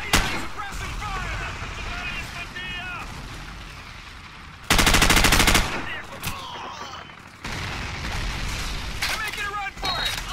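Gunfire in the video game Call of Duty 4: Modern Warfare, with bursts of rapid automatic shots and a loud sustained stretch of firing amid battle noise, continuous and near.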